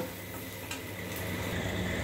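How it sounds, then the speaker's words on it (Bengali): Soft sizzling of whole cumin and panch phoron frying in a hot pan, with a faint scrape of stirring; steady and close, no talking. "গোটা জিরে, পাঁচফোড়ন দিলাম, একটু ভেজে নেব।"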